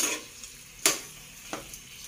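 A spatula stirs tofu and chicken seasoned with pepper and salt in a pan for a saba banana dish: a soft sizzle with two distinct scraping strokes, close and moderately quiet.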